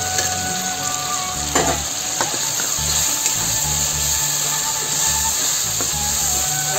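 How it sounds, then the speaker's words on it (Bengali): Fried potatoes go into cooked masala with garam masala in a pan, sizzling steadily close up with occasional stirring scrapes. "আমি দিয়ে দেবো এই আলু ভাজাটা"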